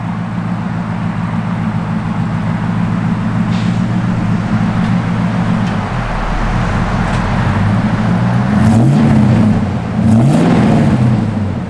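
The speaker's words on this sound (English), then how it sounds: "Got to put your foot on the brake to start the truck" A 1966 Chevrolet C10 pickup engine, started cold, idles with a low rumble, then revs up in a couple of rising surges, loud and close.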